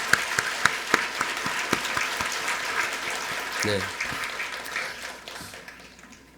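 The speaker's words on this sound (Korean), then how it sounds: "격려의 박수 한번 보내겠습니다" Applause from a church congregation, starting with a few sharp claps and swelling into steady clapping that gradually fades, with a brief spoken word.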